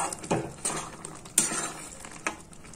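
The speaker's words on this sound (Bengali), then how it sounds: "এবার আমি সমস্ত মশলাগুলোকে মিশিয়ে নেব।" Spices being mixed by hand or spoon into raw Bombay duck (lote fish) in a pan, heard as soft scraping and a few light clinks at uneven intervals, close and fairly quiet with no talking.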